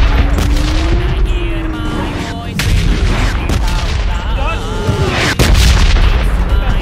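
Gunfire and heavy booms from the Radzone video game keep going in loud, dense volleys and blasts, with people talking over the shooting.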